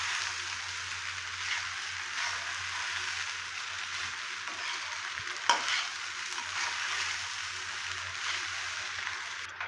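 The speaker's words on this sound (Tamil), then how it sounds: "பச்சை வாசம் போகிற வரைக்கும் கலந்து விடணும்." Poha upma being stirred in a hot pan, a steady soft frying sizzle with the continuous scrape and shuffle of stirring throughout, one brief louder knock near the middle, no talking.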